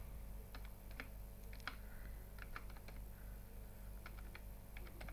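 Faint typing on a computer keyboard while entering room numbers into a hotel management spreadsheet, with scattered light key taps over a steady background hum.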